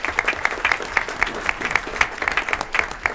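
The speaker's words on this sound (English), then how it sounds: "Let's give them another round of applause." An audience at a school board meeting claps steadily, a dense round of applause that stays even throughout, fairly close and loud with a few voices mixed in.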